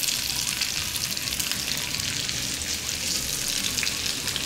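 Bell peppers and onion fry in a pan for sweet-and-sour chicken, a steady close hiss of sizzling oil filling the whole moment with no talk.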